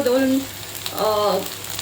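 Ginger-garlic paste with cinnamon, clove, cardamom and peppercorns sizzling in hot oil for a dhaba-style bhindi masala, a close, steady frying hiss for about two seconds with faint tonal traces.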